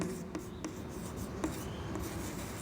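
Chalk or marker writing a maths formula on a classroom board, faint scratchy strokes with a few sharper taps, quiet and close, no talk over it.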